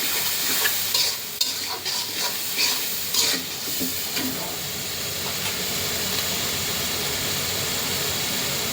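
Spices and tomato frying in a pan for a loitta fish bhuna, loud scraping stirring strokes over a steady close sizzle, the stirring fading after a few seconds while the hiss carries on.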